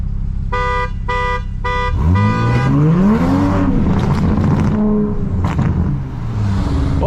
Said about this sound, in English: How many times is she gonna honk?